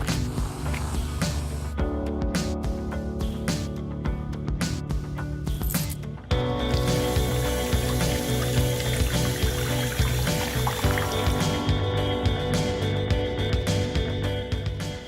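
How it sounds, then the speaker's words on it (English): Rice is washed in water in a kitchen: sloshing, trickling and pouring water goes on steadily, then turns fuller and louder partway through. "So we've just finished washing the rice"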